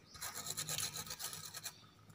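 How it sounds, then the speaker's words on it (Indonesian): Steel wire brush scrubbing a car battery terminal, a series of quiet rhythmic raspy strokes close by, about a dozen quick scrapes over two seconds. "Kita bersihkan dengan menggunakan sikat baja ataupun menggunakan amplas ya."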